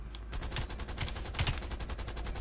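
Rapid automatic gunfire in the first-person shooter Black Ops Cold War, an assault rifle burst rattling off in a fast, steady stream of close, loud shots after a brief quiet start.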